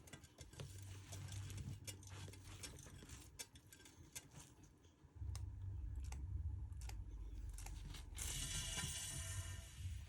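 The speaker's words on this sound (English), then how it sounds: "So I'll give it a bit bigger spin this time." A paint spinner whirls a swipe-and-swirl acrylic pour painting, giving a steady mechanical whirring with clicking, ratchet-like ticks, louder and fuller after about five seconds as the spin speeds up.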